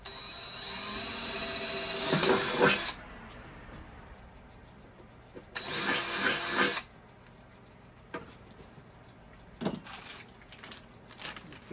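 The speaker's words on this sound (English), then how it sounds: "So let's drill these holes really quick and mount this thing" Power drill boring holes in a Craftsman toolbox being turned into a Bluetooth speaker: two loud, close whirring bursts of a couple of seconds each, then a brief third spin, with quieter handling noise between.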